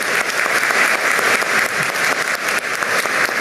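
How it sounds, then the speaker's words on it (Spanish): Audience applause at a military-style award ceremony for Defenders of Democracy Day, as a retired officer receives a knight-grade decoration; steady, dense clapping from a sizable crowd, sustained and even throughout without any talk. "Fuertes los aplausos."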